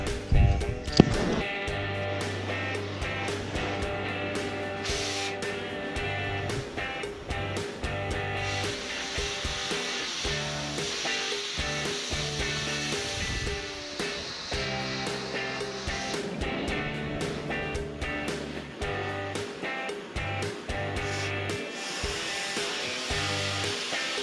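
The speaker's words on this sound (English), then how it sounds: "I'm gonna take a torch and notch these off a little bit." Cutting torch roaring steadily while notching steel pipe for a custom gate, a continuous hissing blast with intermittent crackles and pops over about twenty-four seconds, no speech.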